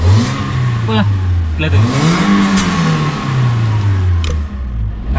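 Daihatsu All New Terios engine revving up from a light throttle blip, rising in pitch then falling back, close by and loud, with people talking over it.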